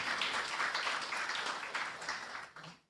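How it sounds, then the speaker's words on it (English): Applause from an audience at a book launch on gender-based violence in the Caribbean, a dense patter of clapping that holds steady and then fades out toward the end. "Let's give them a round of applause."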